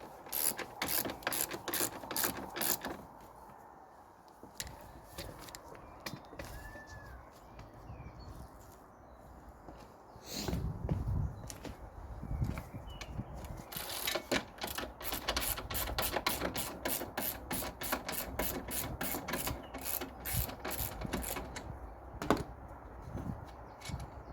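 Ratchet wrench loosening a strut top nut on a Mini Cooper R50 front suspension, rapid clicking ratchet bursts in runs with pauses, close up, alongside metallic handling and shuffling sounds, no speech.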